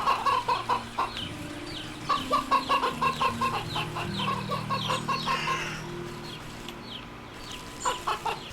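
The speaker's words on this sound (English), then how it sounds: "Oh, this is chickens." Chickens clucking close by in bursts of rapid, rhythmic clucks, pausing and resuming several times over low background noise.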